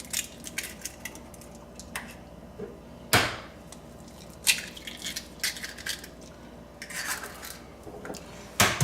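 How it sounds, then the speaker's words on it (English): Eggs are cracked into a bowl for a pecan praline bundt cake, giving sharp shell taps and clinks against the bowl with small kitchen clatter between them, moderately close and with no talking. "So I'm gonna start by just adding my eggs."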